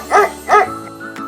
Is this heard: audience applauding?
no